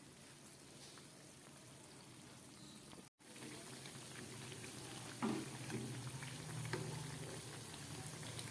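Mung dal kachori frying in oil over a low gas flame, a soft continuous bubbling sizzle with faint crackles and a brief cut partway through, quiet and without voices.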